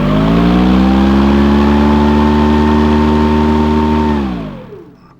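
A Toro 60V battery-powered recycler lawn mower runs at a steady, loud whir for about four seconds, then winds down and falls silent.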